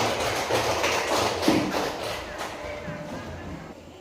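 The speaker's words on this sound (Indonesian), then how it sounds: "Berikan aplaus teman kita" A classroom of primary pupils clapping for a classmate, a dense burst of mixed hand claps that starts strong and gradually thins and fades over several seconds, with a few voices underneath.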